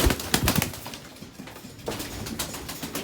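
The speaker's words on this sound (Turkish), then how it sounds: "Evet arkadaşlar bunlar Sivas kuşlarıdır" Sivas pigeons in a coop make soft, muffled coos, and wings flap and rustle in bursts at the start and end, close by with steady background noise.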